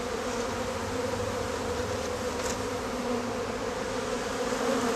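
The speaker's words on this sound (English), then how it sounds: "A lot of bees in this area." Honeybees in an infested box being cleared out by an exterminator drone in a dense, steady buzz that fills the space close by, with no talking over it.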